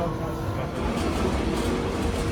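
A Lisbon tram rolls along its rails with a steady, loud low rumble and faint rail clatter, heard close from on board without pause.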